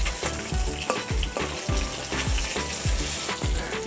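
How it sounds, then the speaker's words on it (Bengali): Pieces of katla fish fry in hot oil in a pan, a continuous loud sizzle broken by regular bursts of spatter as the pieces are turned and stirred, with no voices. "আমার মাছটা ভাজা হয়ে গেছে"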